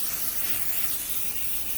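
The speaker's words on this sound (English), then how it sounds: "I'm gonna take some buttered flavor non-stick cooking spray, and I'm gonna just spray that" Buttered flavor non-stick cooking spray hisses out of a can in one steady, continuous burst lasting the whole moment, close and moderately loud, with no talking.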